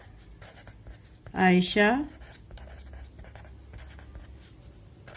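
Pen writing out a math problem: a soft, continuous scratching and tapping that runs nearly throughout, with a brief spoken word cutting in near the start.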